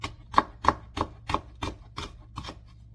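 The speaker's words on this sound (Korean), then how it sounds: "자 이렇게 해서 이제 채로 썰어줍니다" Steady knife chopping on a cutting board while radish is cut into thin julienne strips with a dull home kitchen knife, about nine crisp evenly spaced chops over a low background hum.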